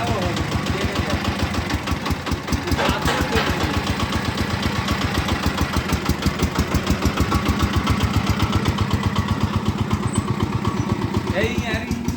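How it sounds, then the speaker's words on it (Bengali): Toto-model machine van with its engine running, a fast steady mechanical chugging that stays loud and close throughout, with someone talking over it. "এবার গাড়িটা স্টার্ট করে দেখাচ্ছি।"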